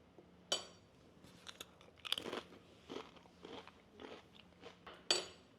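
A thin, crispy store-bought tortilla chip topped with roasted salsa being bitten and chewed, giving a sharp crunch followed by several softer crunches and one more loud bite, close-up with no talking.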